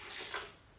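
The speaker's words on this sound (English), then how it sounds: "I put in a little bit of water" A small splash of water poured into a hemp seed and macadamia nut cream being blended as a fruit salad dressing, a soft, close hiss of liquid that peaks briefly and then fades.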